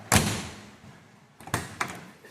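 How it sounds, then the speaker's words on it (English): A weighted car door shuts with a solid thump, followed a second later by two lighter knocks as it settles or is closed again; close and fairly loud, with no talking. "The door with the weight on it shuts really good now."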